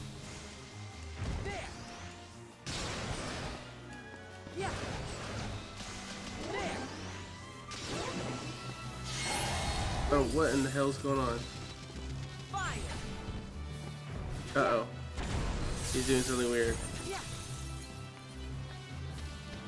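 A boss in Kingdom Hearts 3D crashes down through several levels, producing repeated heavy smashing impacts and whooshes that build in loudness toward the end, with someone talking over the crashes.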